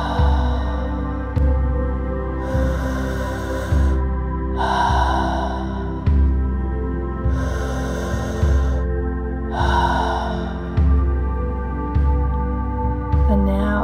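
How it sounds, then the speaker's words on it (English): Slow, deep breathing during a guided grounding meditation: a steady cycle of long inhales and exhales, close and clear, repeating about every three seconds, with no speech. "take three big breaths"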